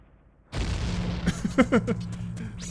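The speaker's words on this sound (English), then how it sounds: "Oh, babbing Dodongos, they jump at you and explode!" Baby Dodongos bursting in Ocarina of Time's Dodongo's Cavern: a sudden loud explosion boom followed by a run of sharp popping bursts, with game sound continuing underneath.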